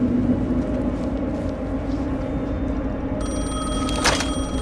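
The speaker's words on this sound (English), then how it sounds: "The phone again." A telephone rings in the video game Alan Wake 2, a steady electronic bell tone that cuts in near the end over a continuous low ambient rumble, with no talking.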